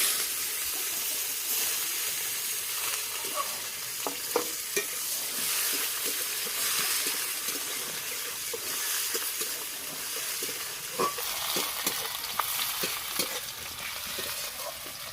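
Chopped onion, bay leaf and whole garam masala fry in oil for a cauliflower and egg dish, a dense steady sizzle broken by repeated spoon scrapes and taps against the pan, close and even.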